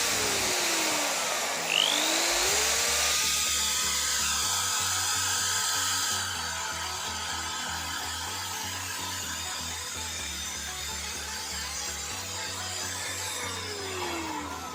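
A DCK KZJ16 impact drill runs at its highest speed, a loud steady high-pitched motor whine with a dense rushing hum that holds continuously, briefly shifting then easing slightly partway through.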